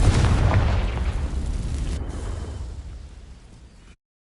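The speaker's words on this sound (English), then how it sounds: "These dry vines are one spark away from becoming kindling. Confringo!" A Confringo fire spell in Hogwarts Legacy igniting dry vines: a loud, close burst that swells into a roaring, crackling blaze, then fades steadily over several seconds before cutting to silence.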